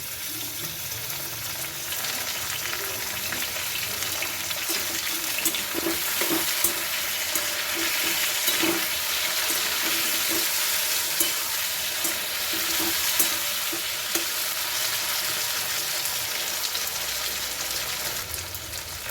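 Chopped tomatoes hit a hot frying pan in a vegetable dish, giving a steady, loud sizzle throughout with occasional stirring clinks and no talking.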